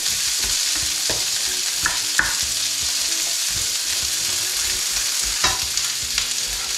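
A whole onion, garlic and ginger sauté for pork papaitan, a loud, constant sizzle that is close to the mic, broken by repeated scraping stirs and clacks of a spatula on the pan.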